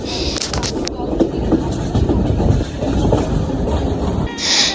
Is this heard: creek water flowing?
no